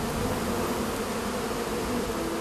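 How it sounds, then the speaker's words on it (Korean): Wild honeybees swarm around a hive on a sheer cliff face, a dense, loud, continuous buzzing drone that holds steady throughout with no voices. "벌집을 지키고 있는 꿀벌들을 침착하게 연기로 쫓아내야 한다"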